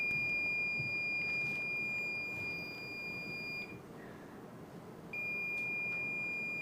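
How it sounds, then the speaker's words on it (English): A Shelly Flood Gen 4 water leak sensor gives a long, steady high-pitched beep after a button press, cuts out briefly, then resumes, clear over quiet room noise. "I'm going to wake it up with a single push of the button, like this."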